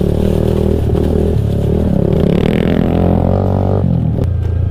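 A mini bike engine revs hard and steadily during wheelie attempts, a loud, close buzzing drone that rises and falls in pitch with a brief dip near the end, with faint clattering underneath.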